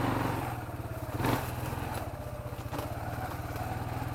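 A Kawasaki Bayou 250 ATV engine chugs steadily while riding, a rapid mid-pitched throb that rises briefly in a revving surge before settling back into an even, pulsing idle-like run.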